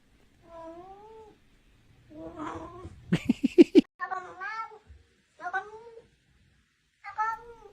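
A cat meows and caterwauls in a string of about six drawn-out, wavering calls with short gaps, close and clear, including one rapid stuttering burst in the middle.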